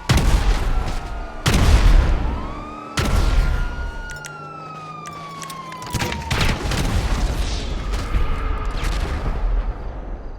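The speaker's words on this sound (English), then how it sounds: "she just started getting fucked up here, man" Explosive rounds in a video game PvP match, heavy booming blasts that strike several times close up with long ringing tails, and a siren-like whine sweeping across between them.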